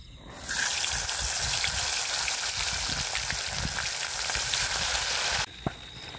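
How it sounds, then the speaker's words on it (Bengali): Fish frying in a pan at a night campsite, a loud, dense crackling sizzle that swells in after a moment, runs steadily, then drops away near the end with a single clink. "মাছটা ভেজে নেব।"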